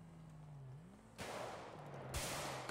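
Gunshots in GTA 5 hit as two sudden loud blasts over a faint engine-like drone, each followed by a noisy burst.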